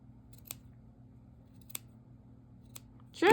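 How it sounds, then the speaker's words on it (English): Scissors snipping yarn strands, three faint, sharp single snips spaced about a second apart, close by in a quiet room. "And then I'm going to just cut them off."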